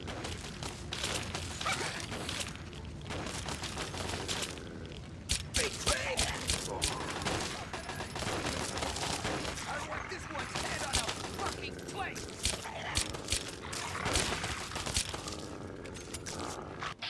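Enemy raiders fire at the player in Fallout 3 on Very Hard on PS3, with repeated gunshots and bursts that crackle sporadically across a busy combat mix while a person talks over the action.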